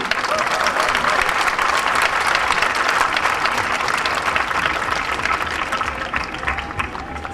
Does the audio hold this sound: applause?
yes